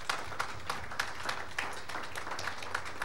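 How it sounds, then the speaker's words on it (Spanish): Sparse, scattered clapping from a small audience at an Indigenous Mesoamerican pre-congress session, honoring three presenters; faint and thin, with individual claps standing out irregularly rather than a full ovation. "Quiero pedir un aplauso para los 3 expositores"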